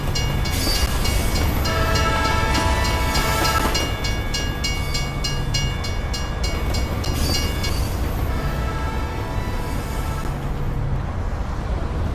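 Moving train in the Team Fortress 2 video game, a steady loud rolling rumble with rhythmic clatter and tonal whine running continuously throughout, no talking.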